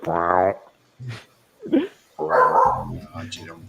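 A dog gives several loud, close barks and yips in uneven bursts separated by short pauses.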